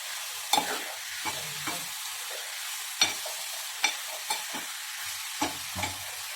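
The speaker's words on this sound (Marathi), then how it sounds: "त्यात लसूण टाकलेले आहे आणि आता कांदा पूर्णपणे गळणार आहे कांदा पूर्ण लाल करून घ्यायचा आहे" Onion and garlic frying in a pan for a spicy Kokani-style jawla dish, with a steady sizzle broken by repeated sharp scrapes and taps of a spatula stirring, close and without talk.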